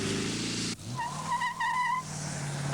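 A used car such as a Celica, Charger or small Volkswagen runs on a race track: engine noise cuts off abruptly, then tyres give a sustained, wavering high squeal at a moderate distance.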